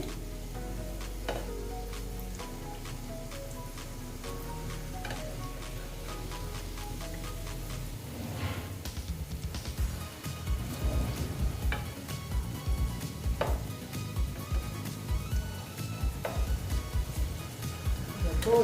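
Ripe banana fritters (kolar bora) sizzle steadily in hot oil in a pan, with scraping clinks of a spatula as they are turned, growing busier in the second half.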